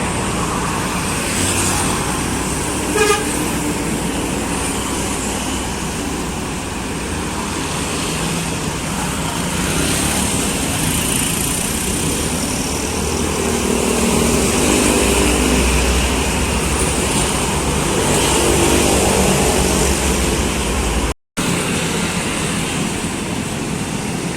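Tour buses in a convoy pass on a road, a loud, steady roar of engines and tyres that swells and fades with passing traffic, with one brief sharp horn-like blip early on and no talking.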